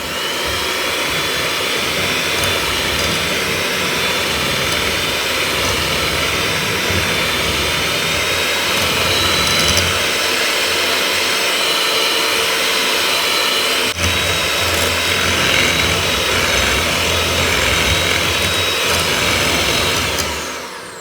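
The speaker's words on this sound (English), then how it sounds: "I want to get in there with my mixer and just mix it up until it's nice and fluffy and creamy" An electric hand mixer whipping ricotta cannoli filling, a loud continuous whirring drone held steady for the whole stretch, close up with no talk.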